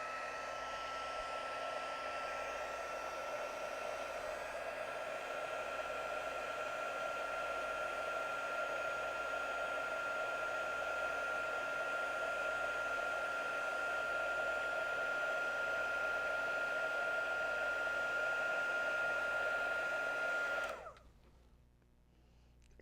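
A heat embossing tool blasts hot air onto ink for a craft project: a loud, steady blowing whoosh with a constant whine that runs unbroken for about twenty seconds, then cuts off abruptly into near silence.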